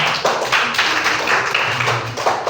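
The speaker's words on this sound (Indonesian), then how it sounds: "Pintar, tepuk tangan dulu" Schoolchildren in a classroom clap their hands during a science lesson on magnets, a loud, fairly close burst of uneven claps lasting a couple of seconds.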